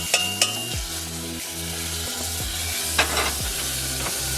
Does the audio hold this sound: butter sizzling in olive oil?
yes